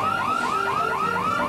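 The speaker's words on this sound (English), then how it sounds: "Oh, we've set off an alarm." Alarm set off inside a building, a loud electronic tone sweeping up and down in a rapid repeating wail, heard alone and close.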